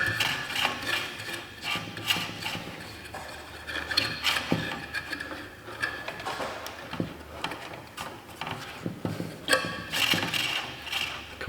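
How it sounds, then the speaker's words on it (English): A furnace blower wheel rubbing against something inside the unit gives a repetitive mechanical scraping and ticking, like a ratchet or grinding gears, moderately close and continuous without any voices. "The blower wheel's touching something."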